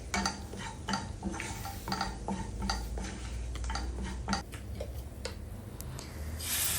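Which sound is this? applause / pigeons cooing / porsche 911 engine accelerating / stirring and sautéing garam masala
stirring and sautéing garam masala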